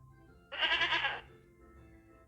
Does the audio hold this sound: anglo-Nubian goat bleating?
yes